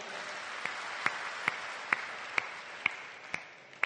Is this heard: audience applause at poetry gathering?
yes